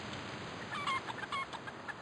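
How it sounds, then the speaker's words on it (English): Chickens cluck in the video game Palworld, with short, repeated calls spaced through a steady, fairly quiet background of game ambience and no talking. "I hear chickens."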